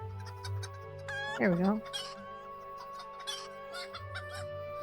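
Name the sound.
chickens clucking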